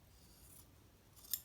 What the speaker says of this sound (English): So I'm going to take my scissors again,